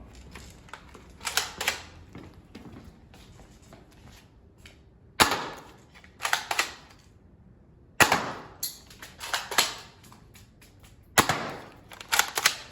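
A toy M4 assault rifle fires shots that snap out in short clusters of two or three, sharp and fairly close, separated by quiet pauses.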